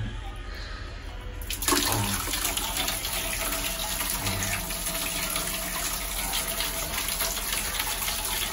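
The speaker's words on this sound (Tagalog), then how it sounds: "So ito yung gripo nila guys, tinan nyo ha." Water from an outdoor tap in Buscalan gushes in a steady, loud stream that starts abruptly and then runs on without a break.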